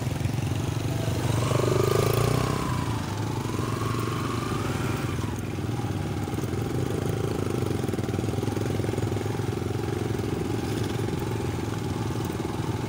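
A convoy of eighteen motorcycles climbs toward Mehar Jabal, their engines making a continuous, fairly loud, mid-pitched drone with a brief rising whine near the start, and no pauses.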